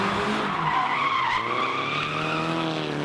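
Tires on a drift car shriek and skid in a long, wavering squeal as it spins out on a competition track, loud and close with engine drone underneath.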